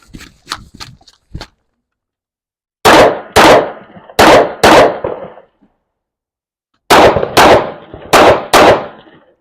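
MK18 rifle fired on a shooting course of fire: a quick burst of four light shots opens, then after a pause two tight pairs of loud, sharp reports, another pause, and two more doubled pairs, each crack ringing briefly outdoors.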